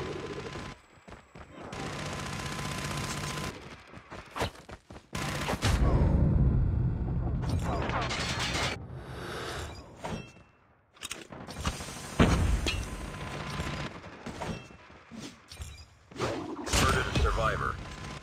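A sentry gun fires in Call of Duty Mobile with bursts of automatic gunfire and heavy thuds over a busy game soundscape, the shots coming in irregular volleys.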